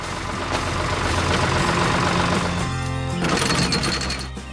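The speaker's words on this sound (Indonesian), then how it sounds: "Traktor itu sedang bekerja keras membajak tanah agar siap ditanami benih-benih yang" A large tractor works hard plowing soil, its engine a steady, loud mechanical drone with a rattling, rhythmic chug that shifts pitch partway through.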